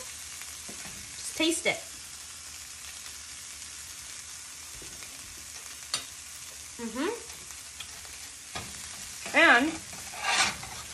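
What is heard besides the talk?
stirring veggie fried rice in a pan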